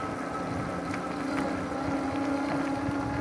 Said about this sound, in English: Probably a lot of wind noise today. There's a little bit of a breeze.